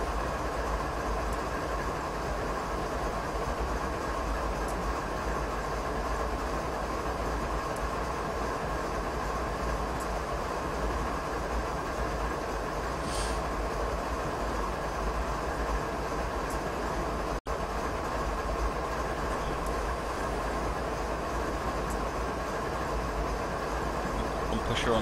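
A short BNSF freight train led by an ES44DC locomotive runs on Marias Pass in Train Simulator 2016, giving a constant low engine drone and rolling rumble at a quiet, even level throughout.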